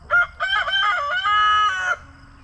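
Silkie chicken calling up close, a loud drawn-out harmonic crow-like squawk lasting about two seconds, with faint background clucks and no talk.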